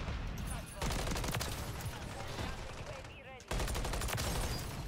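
Dense rapid MCW assault rifle fire in a Modern Warfare 3 match, loud close bursts with a short break before shooting resumes, a voice faintly under the gunfire.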